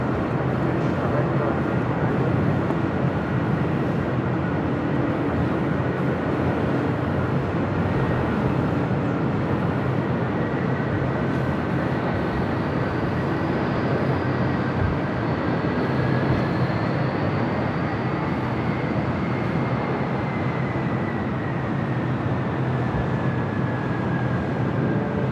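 Aircraft landing at LAX, a Citation business jet among the arrivals, carrying a steady broadband jet roar across the whole span with a slowly sliding whine, continuous and fairly loud without breaks.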